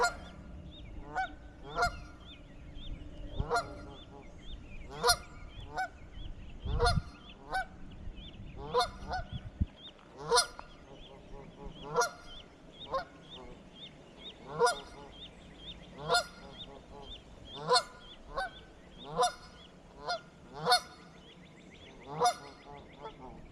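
Geese honk repeatedly, a series of loud, evenly spaced nasal calls close by, with some low rustling noise early on and no talk.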